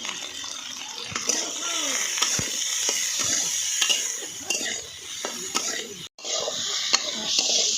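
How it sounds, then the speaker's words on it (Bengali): Flat beans fry in a pan of oil with a continuous bright sizzle, broken by the scrape and clatter of stirring and a short pause near the end. "সিমগুলো ভাজা হয়ে গেছে, তুলে নিচ্ছি।"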